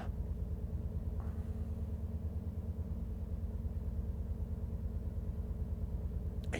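A diesel train engine in Train Sim World 6 on a West Cornwall local run, heard from the cab as a constant high-revving drone with a steady low rumble and no talk.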